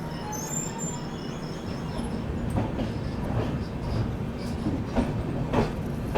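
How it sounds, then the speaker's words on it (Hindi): The Shri Shakti AC SF Express (22461) pulls out of Shaheed Captain Tushar Mahajan station at Udhampur with a steady, close rumble and rhythmic clickety-clack of wheels over rail joints, plus faint squeals. "चलिए निकल गई है ट्रेन अपनी शहीद कप्तान तुषार महाजन उधमपुर से।"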